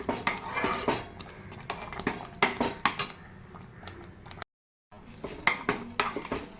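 Aval kesari mixture being stirred and mashed in a pot, with repeated metal spoon scrapes and clinks against the vessel in an uneven rhythm, close and fairly loud, broken by one short silent gap.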